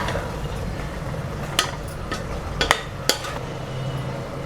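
Tomato, chili and garam masala sautéing in a pan for tomato rice, a low steady sizzle broken by a few sharp clinks of a spoon stirring against the pan.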